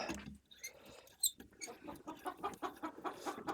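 Noisy chickens on a cold-weather homestead cluck and chatter in quick, uneven bursts, faint and somewhat distant, with no speech.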